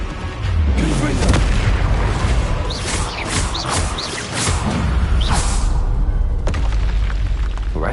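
Fiery blast spell cast in the Hogwarts Legacy video game, a booming burst with whooshing magical effects over a dense, loud game soundscape of rumbling and swishes throughout.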